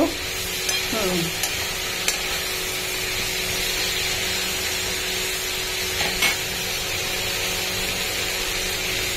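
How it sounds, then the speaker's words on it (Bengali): Vegetables for Bengali aloo posto fry in a pan until reddish, a steady broadband sizzle with a few stirring scrapes and clinks, close and moderately loud throughout. "একটু লাল করে এগুলো ভাজা।"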